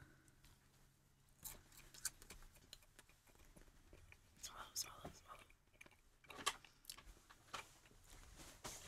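Flavored snacks, such as bacon-flavored ones, are chewed close by with faint, irregular crunches and clicks under soft, low background voices.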